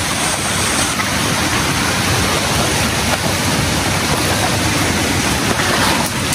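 A river rushes steadily beside a mountain trail on Gunung Korbu in Malaysia, a loud, close, unbroken roar of flowing water with no voices.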